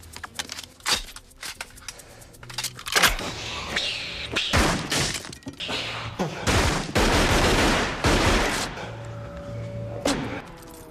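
Guns firing blank cartridges on a film set, a dense run of overlapping loud bangs and rapid bursts with echoing thumps, close and continuous before tapering into a few isolated shots.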